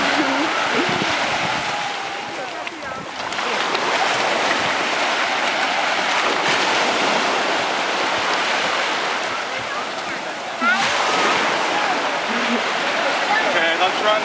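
Ocean waves break and wash up on a beach in a steady surging roar with gusts of wind buffeting the microphone, while people talk nearby over the surf.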